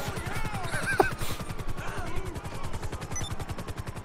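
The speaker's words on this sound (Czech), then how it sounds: "Nezabil proč po tě střílí? Proč po tobě střílí?" Rapid police gunfire in GTA V Online, a dense run of repeated shots across the whole span with a sharp crack near the middle, loud and close over game noise.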